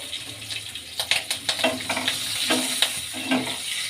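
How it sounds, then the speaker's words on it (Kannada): Green chillies frying in a pan give a soft, steady sizzle, with a run of scraping stir strokes spaced irregularly across the few seconds, close and moderately loud, with no voices. "ಫ್ರೈ ಮಾಡ್ಕೊಳ್ಳೋಣ."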